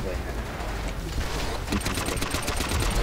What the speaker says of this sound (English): There's bullets everywhere.